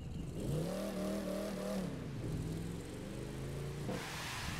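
A Dodge Charger R/T Hemi in The Crew video game drives steadily with a loud, continuous mid-pitched engine drone that rises in pitch, drops briefly around a gear change, then climbs again, with no talking.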